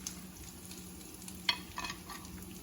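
Fries frying in a pan alongside onions and tomatoes for a Beyond Meat burger, a faint, steady low sizzle with one small clink near the middle and no talking.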